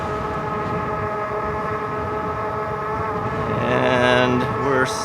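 RadRover electric bike ridden at full throttle on a city street around 20 miles an hour, giving a steady tonal motor whine with layered harmonics over constant road and wind noise, rising and swelling briefly near the end.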